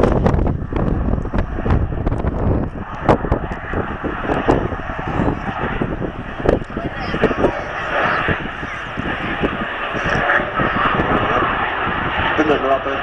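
An F-18 jet flies a low-speed demonstration pass, its engines giving a loud, continuous roar with rumbling, gusty swells, while a person talks over the noise.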